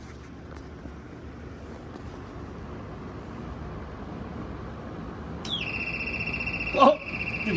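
A Royal TS-1000G smoke and gas alarm sounds in the last two seconds, a steady high electronic tone rising out of a low background rumble, with a brief knock just before the end.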